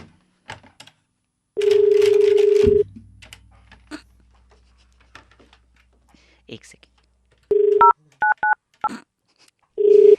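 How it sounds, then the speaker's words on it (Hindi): Telephone keypad tones beep in short bursts as a number is dialed, with a brief spoken phrase and quiet handling noises between. "किसी को फ़ोन लगा रहा है, और लगा लेते हैं"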